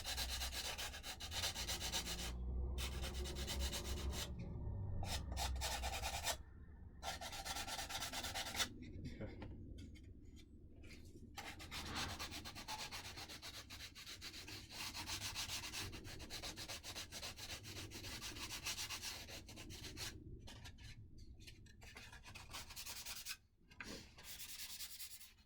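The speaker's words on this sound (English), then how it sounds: "we'll just sand that in now. Use the 220 block here just to kind of finish that off now." Continuous rhythmic rubbing of a 220-grit sanding block across wood, blending and finishing a surface, steady and close with brief pauses between strokes.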